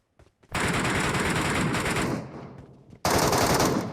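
Automatic gunfire in the mobile shooter PUBG Metro Royale as a bot is shot: two long, loud, continuous bursts of rapid shots separated by a brief pause, with no speech.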